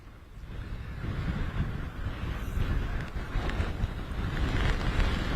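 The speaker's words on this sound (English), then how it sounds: "So we're getting gusts of wind that come across" Steady gusting wind at an outdoor sailing race, a broad rumbling roar buffeting the microphone, swelling slightly over the span with no speech.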